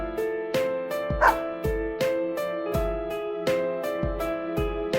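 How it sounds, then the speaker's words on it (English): A white dog in the fighting video game Persona 4 Arena gives repeated short bow-wow barks at a steady rhythm, close and clear, with no talking. "the name of this animal is a dog"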